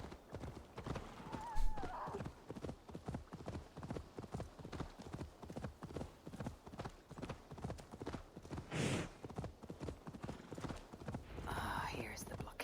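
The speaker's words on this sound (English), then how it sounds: "the horse will still be faster." Galloping horse hooves in Assassin's Creed Valhalla, a fast, steady clip-clop rhythm of dull thuds running throughout, with a short whinny near the start and game sounds and a quiet voice underneath.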